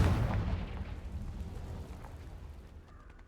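A Confringo blasting spell goes off in Hogwarts Legacy as one heavy, booming explosion, loud and close, that rumbles and slowly dies away over a few seconds, with a faint whistling tone near the end.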